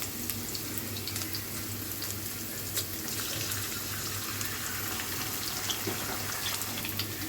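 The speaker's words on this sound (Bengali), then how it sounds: "এটাই ডিম দিয়ে ভেজে নিব।" Pilaf rice with egg frying in a pan, giving a steady, even hiss of sizzling oil that runs unbroken throughout with no talking over it.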